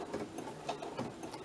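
Sewing machine stitching through glued paper word embellishments, a steady fast mechanical whirring with a rapid needle patter, continuous and close for a short burst.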